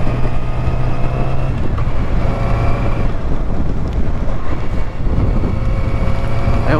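A Yamaha R6 sport motorcycle cruising at around 60 mph on a fast road: a steady, unbroken roar of engine drone and heavy wind rush, loud and close throughout the ride.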